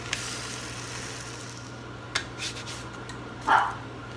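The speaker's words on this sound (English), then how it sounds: "the pan is nice and warm, so these are cooking rather quickly" Blueberry pancakes cook in a well-heated pan, giving a quiet steady sizzle with a few soft scrapes and one brief louder hiss near the end; no one speaks.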